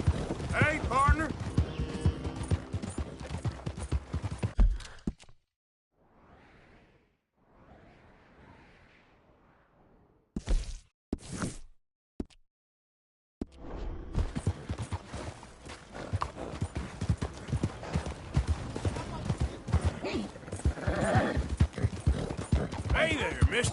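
Horses clip-clop in the Red Dead Redemption 2 video game, hoofbeats running under busy game sound and voices at the start and end, with a near-silent stretch and a few sharp bursts in the middle.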